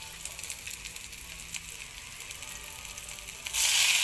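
Food frying in a pan during home cooking, a steady close sizzle and crackle that grows louder near the end, with no talk over it.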